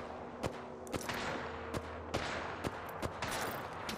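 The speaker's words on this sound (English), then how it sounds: "I am taking fire." Gunfire in a ranked online shooter match, a string of sharp, evenly spaced single shots roughly every half second, close and crisp over a low ambient game hum, with no talking.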